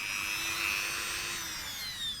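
A power drill bores a hole for forensic facial reconstruction of a 10,000-year-old skull, giving a steady, fairly quiet high-pitched whine that holds for about two seconds on its own.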